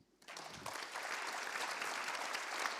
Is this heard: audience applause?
yes